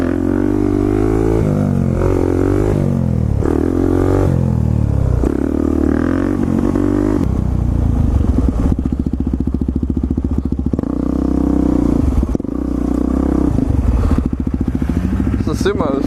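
A street-legal 50cc pit bike rides past, its small engine buzzing and revving in uneven bursts with clatter and thumps, fairly loud and close, while people talk over it.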